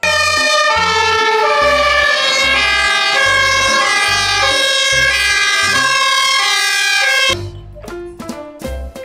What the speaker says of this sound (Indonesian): Widih, mobil pemadam kebakaran.